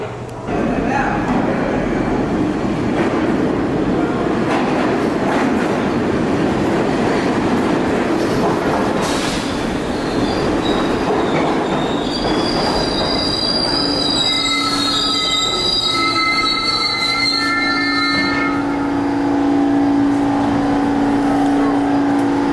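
A New York subway train pulls into the station, its wheels squealing loudly in high piercing tones over a heavy continuous rumble and clatter of railcars, building toward the end.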